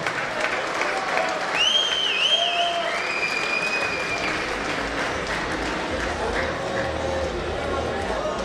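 Crowd applause for two fighters, Stefan and Jan, at a Veni Vidi Vici 2018 combat sports event, a steady mass of clapping with whistles and cheers over it while an announcer speaks.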